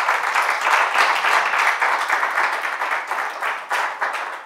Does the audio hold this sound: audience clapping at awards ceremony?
yes